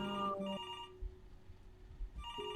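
A telephone rings in the video game Before Your Eyes, a tonal electronic ring that sounds, pauses in near silence, then starts again, moderately loud with no voices.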